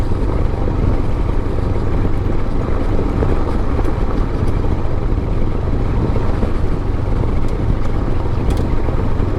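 A Royal Enfield Himalayan motorcycle rides off-road with a steady, close engine drone, joined by wind rush and constant rumble, with no voices over it.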